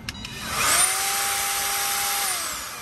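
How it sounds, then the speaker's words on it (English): An 18 volt Snap-on cordless die grinder spins up to a steady high-pitched whine, running close and loud for about two seconds before winding down; no talking. "one more new tool, 18 volt"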